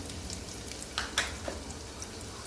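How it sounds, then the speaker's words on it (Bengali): Onions frying in oil for a fish curry give a faint, close, steady sizzle with a few soft crackles and clicks of stirring, no talking. "সে তরকারির জন্য পেঁয়াজ আর তেল দিলাম পেঁয়াজটা ভাজবো"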